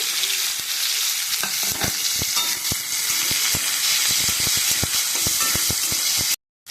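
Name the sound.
chopped onion and tomato frying in hot oil in a kadai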